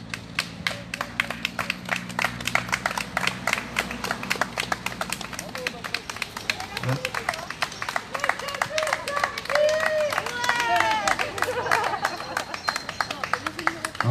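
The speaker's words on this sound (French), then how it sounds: "Je pense qu'on peut tous s'applaudir les uns les autres." Scattered clapping and tapping from people gathered in an occupied theatre in Lorient, uneven and close, with voices and chatter through most of it.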